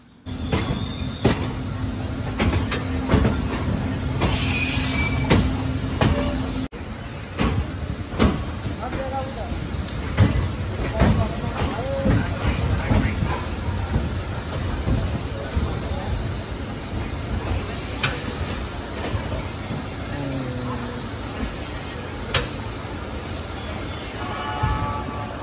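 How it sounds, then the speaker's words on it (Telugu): The Padmavati Express at a station platform, with continuous rail rumble, scattered clanks and knocks over about twenty-five seconds, fairly loud and close, while people talk nearby. "ఎదురుగా కనిపిస్తున్న ప్లాట్ఫామ్ మీద అయితే పద్మావతి ఎక్స్ప్రెస్ అయితే ఉందన్నమాట. ఇప్పుడే బయలుదేరడానికి సిద్ధంగా ఉంది."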